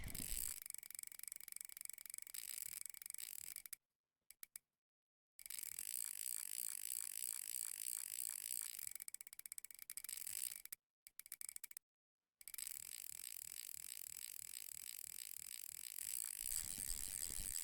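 Fishing reel drag in Russian Fishing 4 at Old Burg Lake: rapid, continuous mechanical clicking of line running out, in long bursts broken by short silences.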